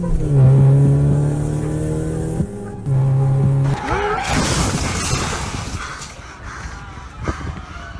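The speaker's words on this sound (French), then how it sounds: "Thomas Sullivan, au volant de sa voiture, pulvérise à 200 km/h l'arrêt de bus rue Petit à 7h43 et meurt sur le coup." A car slams at about 200 km/h into a street bus stop. Sustained engine and tire tones are cut by an abrupt, loud smash of shattering glass and crunching debris that fades into clattering remnants.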